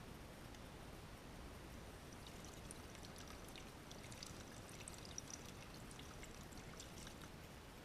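Old coolant draining steadily from a 2011 Kawasaki Ninja 250 cooling system during a flush, a continuous quiet pouring trickle of liquid with no pauses and no talk.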